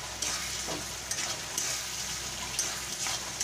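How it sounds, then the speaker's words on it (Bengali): Masala and tomato sizzling steadily in a hot pan for a fish roe dish, a continuous close frying hiss with light scraping from stirring. "মশলাটাকে আমি 4 মিনিট ধরে ভালো করে কষে নেব, রান্না করে নেব"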